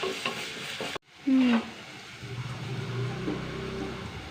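Five or six shallots, a garlic clove and two green chillies sauté in a pan. A sharp clatter and a brief tonal scrape are followed by a quieter, steady sizzle with light crackles, and no one speaks.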